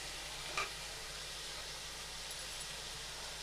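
Carrots and peas fry in a pan of oil for a vegetable pulao, giving a soft, steady sizzle with a brief scrape near the start. The sound stays faint and even throughout.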